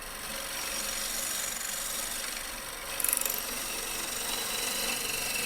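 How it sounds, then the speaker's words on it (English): An antique roughing gouge shears wood on a lathe, a steady close hissing, rasping scrape that runs continuously, with a brief brighter chatter midway where the tool catches. "Again, I am using a really old antique roughing gouge here."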